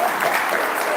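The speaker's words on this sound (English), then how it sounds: "A big round of applause for the students." Audience applause for students at a college workshop on nuclear energy, a dense steady clapping that fills the whole short stretch without a break.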